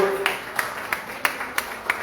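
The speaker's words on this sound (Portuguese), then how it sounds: "Dê uma salva de palmas para o Senhor" A church congregation claps in slow, regular unison, about six evenly spaced claps, moderately loud in a reverberant room, with a faint voice underneath.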